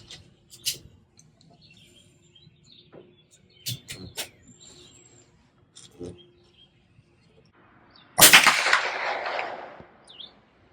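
Federal .22 LR high-velocity hollow-point rounds fired over a chronograph: several sharp, isolated cracks a few seconds apart against a quiet background, the last followed by a longer rushing burst of noise.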